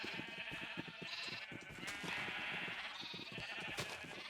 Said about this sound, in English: There's sheep on both sides, isn't there?